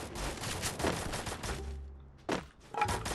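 Automatic weapon fire in the video game Free Fire, with rapid bursts of shots followed by a short pause and then a few more isolated shots, fairly quiet and with no voices.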